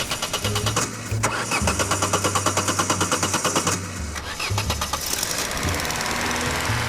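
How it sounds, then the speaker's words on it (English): A taxi engine in the video game CyberTaxi cranks in a fast, rhythmic chug as it struggles to start. It stutters and pauses, then catches and settles into a rough, steady running drone. "struggling to start the engine of your taxi."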